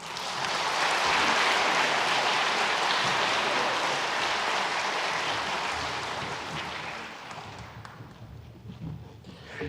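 A church congregation at a Sunday worship service applauds in a dense, sustained wash of many hands clapping, loud at first and then fading out over several seconds.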